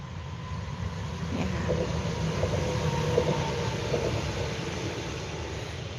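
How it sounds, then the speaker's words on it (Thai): A train rumbles past in a steady low roar with rattling and faint squeals, continuous throughout, moderately loud. "รถไฟมาอีกแล้ว"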